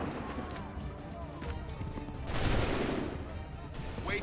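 Musket volley gunfire in an Assassin's Creed 3 battle, a dense crackle swelling midway over a steady noisy background, with shouted voices.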